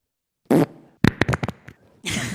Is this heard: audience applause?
no